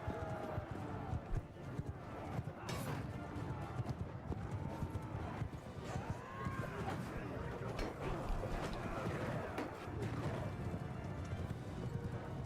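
Rapid hoof clip-clop of a horse galloping in the medieval combat game Mount & Blade 2: Bannerlord, steady and busy under faint battle noise and occasional whinnies, fairly quiet overall.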